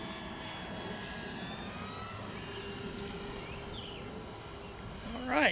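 A Flightline Spitfire Mk radio-controlled model airplane drones steadily overhead at a distance, its engine hum fairly constant, and a voice briefly cuts in at the very end.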